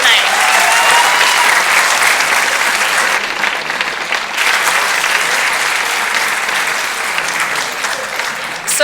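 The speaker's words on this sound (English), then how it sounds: "Please give your candidates a round of applause for a great job tonight." A room of people applauds the candidates at a Thunder Bay Superior North election forum, loud continuous clapping from a sizable crowd that holds steady, with a few scattered voices mixed in.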